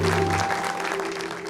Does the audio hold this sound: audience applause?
yes